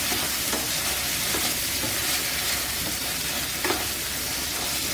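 Paneer and kadhai masala with coriander powder fry in oil in a kadhai, a steady close sizzle filling the whole stretch with occasional scrapes and stirs of a spoon.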